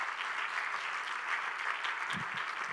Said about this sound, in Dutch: Zullen we eens even een applaus geven hier?